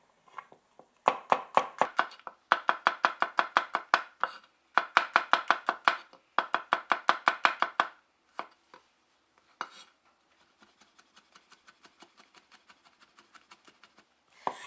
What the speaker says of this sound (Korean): 먼저 마늘부터 다져주겠습니다. 마늘을 곱게 다져서 준비를 해주세요.